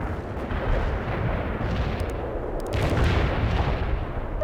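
Artillery fire in the video game World in Conflict: a continuous heavy barrage of deep booming blasts and rumbling impacts, loud and dense, with sharper cracks overlapping near the middle.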